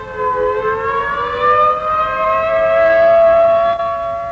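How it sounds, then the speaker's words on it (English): A loud civil defense siren wails continuously, its steady tone slowly rising and holding, with no other sounds over it. "Sirens are sounding the take cover."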